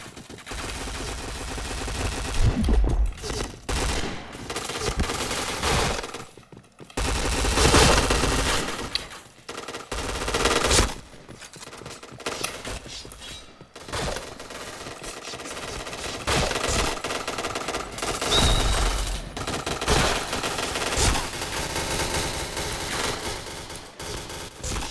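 Dense bursts of automatic gunfire in the shooter game Point Blank, loud and close. Rapid volleys come in long stretches broken by brief gaps, with sharp cracks and shattering impacts mixed in.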